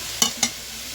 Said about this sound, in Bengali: পেঁয়াজ আর এই শাকের মধ্যে একটু রসুন দিয়ে ভাজা করব